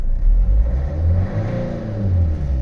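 A Vauxhall Vivaro van engine, just repaired after a non-start fuel rail pressure fault, revs up close by, its deep rumble rising and easing in a couple of swells with no talking.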